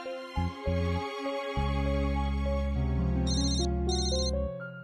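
A phone ringtone plays a loud, steady electronic melody with sustained tones and a brief high chime during a call in a Hindi TV drama scene, heard alone without speech.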